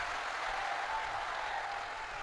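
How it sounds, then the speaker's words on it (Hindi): Sustained applause from the audience at a Shiv Mahapuran katha, a steady even wash of clapping held throughout without voices over it. "एक बार यजमान परिवार के लिए जोरदार ताली बजाकर स्वागत करें।"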